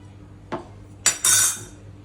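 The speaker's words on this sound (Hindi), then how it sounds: "मैंने एक भी बर्तन नहीं छोड़ा है अब इसमें, सब कुछ क्लीन कर दिया है।" Dishes and utensils being washed: a couple of sharp metal clinks followed by a longer clattering rattle of cutlery and pots.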